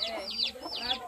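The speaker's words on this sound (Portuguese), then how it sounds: "As galinhas aqui." Domestic chickens clucking in a backyard, with repeated short nasal calls in quick bursts, fairly close and moderately loud, a rooster-like note mixed in, and no talk over them.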